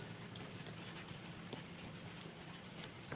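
Steady rain falling near a house and its laundry area, a faint continuous hiss of drops with no voices over it.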